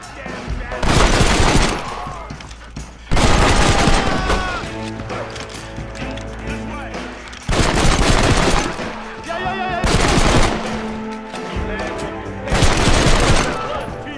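Gunfire in the Western video game Red Dead Redemption on PC during a Blackwater mission, loud repeated bursts of shots and crashes in clustered volleys, with someone talking between them.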